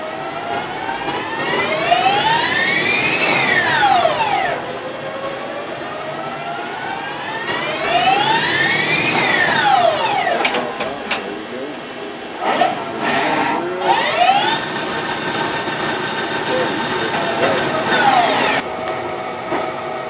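A Romi 35E CNC lathe running a turning cycle, spindle whine rising and falling in pitch across repeated passes, with clunks and clicks between them, loud and close.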